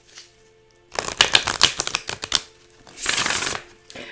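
Tarot message cards being shuffled make close, crisp riffling bursts: a rapid flurry of flicks, a pause, then a longer dense shuffle and a short final riffle, with no talk over them.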